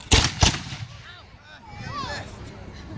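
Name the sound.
musket volley fired by reenactors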